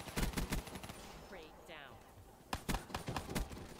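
Rapid pistol shots in a shooter video game crack out in two loud clusters, one at the start and one near the end, with a quieter stretch and a brief voice in between.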